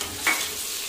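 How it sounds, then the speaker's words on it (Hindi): Finely chopped medium-sized onions frying in a pan for Hyderabadi mutton tahari, a steady close sizzle with a brief louder burst of stirring near the start. "मैंने मीडियम साइज़ की प्याज को बारीक काटा है, उसको मैं तलूंगी और रेड करूंगी।"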